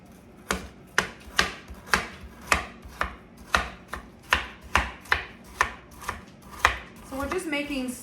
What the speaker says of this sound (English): So we're just making slices.